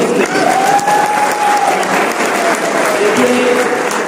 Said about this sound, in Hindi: वही इतने पर ताली बजानी चाहिए ना।